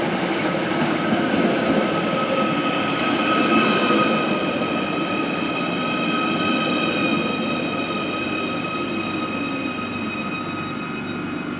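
A Merseyrail electric train pulling into a station, with a steady rolling rumble, a faint high whine and a brief wheel squeal, sustained and fairly close throughout.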